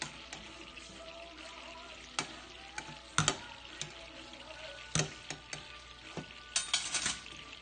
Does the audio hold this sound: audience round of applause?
no